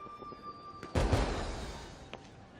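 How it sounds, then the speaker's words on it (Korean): A toy firework launcher in Genshin Impact fires during a festival, a sudden sharp bang followed by a crackling, fading burst and a smaller pop, with faint tones beforehand. "이건 불꽃놀이를 발사할 수 있는 장난감이야."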